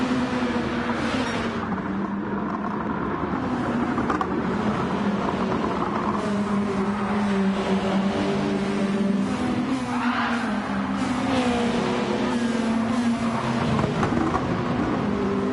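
A pack of Japanese Gr2 racing cars drives in a racing video game, engines droning loud and continuous with shifting pitch as the cars pass, with no speech.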